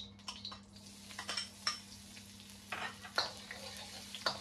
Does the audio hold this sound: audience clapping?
no